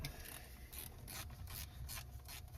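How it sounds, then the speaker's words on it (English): A T30 Torx driver loosens tight screws on a 2012 Subaru Impreza WRX STI, giving quiet, close ratcheting clicks in short repeated bursts with soft scraping between them and no voices. "grab yourself a T30 Torx, and you're just gonna go, you can grab a flashlight if you want, take a look in there, and loosen them off."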